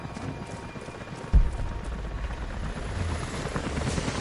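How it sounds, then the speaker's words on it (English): Helicopters closing in within Rise of the Tomb Raider, a steady low rotor rumble that holds throughout and swells slightly toward the end, with a sharp thump just past one second. "Jacob, helicopters are headed your way."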